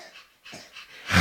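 A young child imitates a dog barking: a few short, breathy woof-like calls with gaps between them, building to a louder final bark, close and alone.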